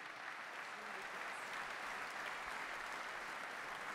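An audience applauds at an evening ceremony honouring the Vendée cycling industry, a sustained, fairly quiet wash of clapping from a large crowd with faint voices murmuring underneath.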